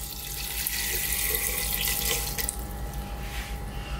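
Water poured steadily into a pressure cooker holding lamb stew with tomatoes, a continuous splashing stream running for about four seconds, close and fairly loud, with no talking.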